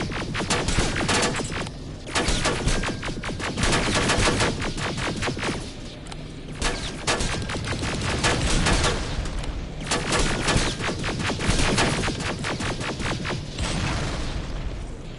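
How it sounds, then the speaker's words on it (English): Plasma turrets firing in the video game Terminator Resistance: dense, continuous rapid shots and booms in repeated sustained bursts, loud and close, with brief lulls between volleys. "plasma turrets are really good"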